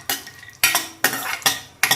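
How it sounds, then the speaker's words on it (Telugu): Cashew and almond pieces being fried in a pan, a spatula scraping and stirring in five quick, evenly spaced strokes with a light sizzle between them, close up and without speech. "సేమియా వేయించుకున్నాక నెక్స్ట్ డ్రై ఫ్రూట్స్ వేయించుకుందాం."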